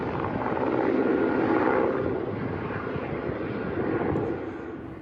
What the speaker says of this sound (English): a helicopter was used to bring more water in an attempt to douse the